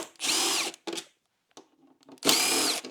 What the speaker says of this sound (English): Gotta remove this front panel as well, which is just a few Phillips head screws